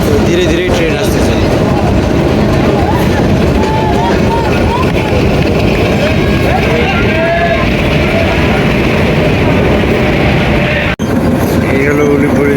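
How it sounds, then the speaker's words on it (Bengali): A train rolling slowly into Ulipur station in Kurigram along a rough, badly kept rail line, a loud constant rumble with rattling and clanking wheel noise, heard from on board with voices talking over it. "ধীরে ধীরে ট্রেন আসতেছে"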